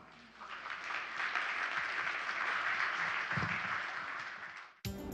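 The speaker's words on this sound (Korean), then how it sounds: "강연자 신희섭 단장님을 박수로 모시겠습니다" An audience at a science forum lecture claps steadily in a dense wash of applause for several seconds before it cuts off abruptly.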